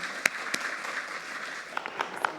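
An audience at a symposium on race and imprisonment claps for a guest, a soft steady patter of many hands with a few sharper nearby claps standing out, fairly faint throughout.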